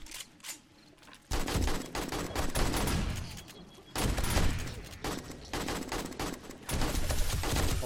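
Bursts of gunfire from the zombie shooter 7 Days to Die during a horde night, a short lead-in then repeated loud volleys of rapid shots in dense clusters, nearly continuous with brief gaps.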